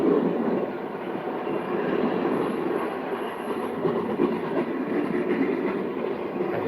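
A freight train of gondolas loaded with rock and railroad ties rumbling past nearby, a steady heavy roar of rolling wheels and cars with faint metallic squeal, continuous and loud.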